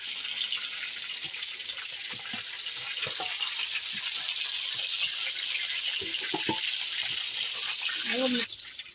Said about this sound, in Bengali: এবার চিকেনটা ভালো করে আমি ভেজে নেবো।